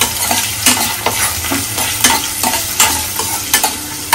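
Curry sizzles loudly in a pan at close range while a spoon scrapes through it in regular stirring strokes, each stroke marked by a sharp scraping knock.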